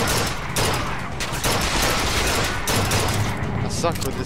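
Sustained bursts of gunfire crack loudly in a combat scene from the video game Bioshock Infinite, dense and continuous with a short lull, with a voice speaking faintly underneath.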